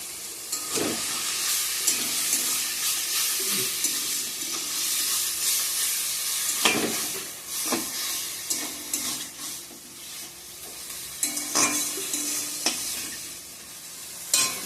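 Spices with red chilli, cumin and coriander powder are sautéed in a pan, with a loud steady sizzle and hiss under intermittent scraping strokes of a spoon, close up, and no talking.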